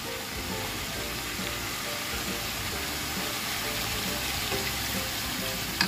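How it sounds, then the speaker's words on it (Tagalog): A small amount of water added to a hot pan of squash, chayote and pork brings a steady, even hiss of bubbling and sizzling, moderately loud and close, with no talking. "Lagyan natin ng kaunting tubig."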